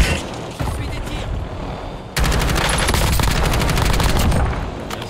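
Rapid gunfire in the online shooter Warzone, with sustained automatic bursts, loud and close, that start after a quieter opening stretch of distant shots. Speech is faint underneath.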